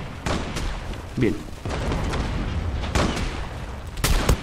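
Gunfire from the Bora 12 in the Zula video game: several sharp shots at irregular intervals over busy game noise, with someone talking between them.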